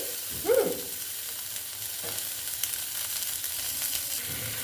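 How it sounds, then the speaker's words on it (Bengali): Okra and tomato frying in a pan over lowered heat, a soft steady sizzle running throughout with a brief stirring scrape near the start and occasional faint clinks. "একটু ভালো মতন ঢেঁড়সটা টমেটোটা ভেজে নিচ্ছি"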